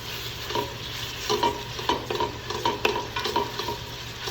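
Sausage being broken up and cooked in a pan for pasta sauce, with repeated scraping and chopping strokes of a utensil over a constant sizzle, close and fairly loud, no voices.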